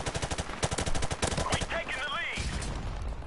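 Rapid Desert Eagle gunfire in Modern Warfare Remastered online play, a quick burst of loud, punchy shots in close succession, followed by a whooshing game effect.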